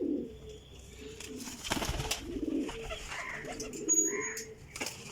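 A loft of flying-breed pigeons gives off soft, throaty coos and chirps, with a brief burst of wing flapping partway through, heard up close without speech.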